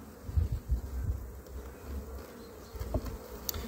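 Honey bees buzz around an open hive during an inspection, a close, low, continuous droning hum with swells as individual bees pass near.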